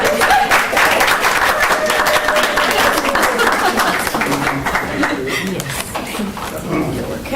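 A round of applause for a retiring school colleague at a Wake County Public Schools policy committee meeting, a steady roomful of clapping that thins toward the end, with a voice speaking over it.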